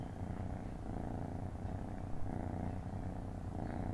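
A small black cat purring close up, a steady, continuous low rumble with soft rhythmic pulses that runs throughout with no voices.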